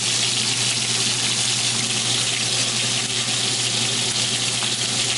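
Beef browning in a hot pan for Chilean stuffed potatoes gives a steady, even sizzle, close and fairly loud, with no break or talk over it.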